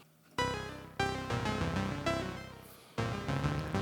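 Modular synthesizer oscillators pulse in a sequenced pattern, layered bright voices restarting every second or so, steady and close with no talking.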